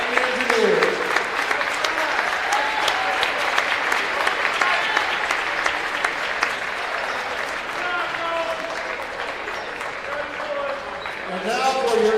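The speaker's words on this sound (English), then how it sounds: "Let's have a round of applause for the Rose Holman Technology Fighting Engineers." A crowd at a men's college basketball conference championship game gives a long, steady round of applause, loud and dense throughout, with scattered cheering and a few voices rising near the end.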